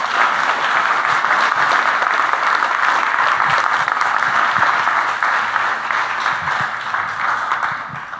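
A room full of people at a Rotary meeting gives a guest speaker a dense, sustained round of applause that fades slightly toward the end.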